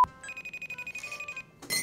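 A phone call rings through a Bluetooth speaker built into a water bottle accessory, about a dozen short, evenly spaced electronic ring pulses at close range, followed by a brief burst of noise at the end.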